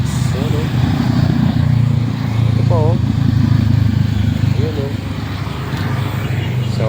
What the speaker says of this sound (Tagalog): ayan grupo ng mga big bike